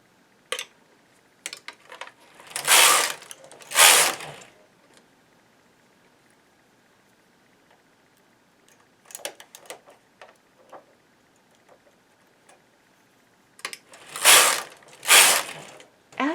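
A hand-operated knitting machine carriage knits two rows, each pass a burst of loud mechanical clattering and ratcheting, separated by quieter stretches with scattered clicks and small mechanism noises.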